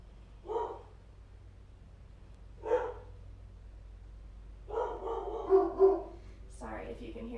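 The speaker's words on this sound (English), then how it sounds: "Sorry if you can hear the dogs." Dogs panicked by a passing lawnmower bark from a distance in separate short bursts, the last a quick run of several barks, while someone speaks.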